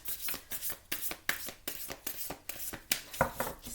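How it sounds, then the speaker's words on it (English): A deck of tarot cards is shuffled by hand at close range, giving a quick, regular run of crisp riffling bursts with short pauses between them, and no voices. "Okay, let's keep shuffling. I'm gonna do like about 4 more shuffles."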